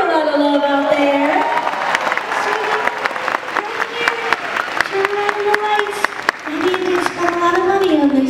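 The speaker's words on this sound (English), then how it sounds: "Big round of applause for our junior director, lovely princess all the way from Georgia." Large theme-park audience at the Indiana Jones show at Hollywood Studios breaks into loud, sustained applause and cheering, with an announcer's voice carrying over the crowd throughout.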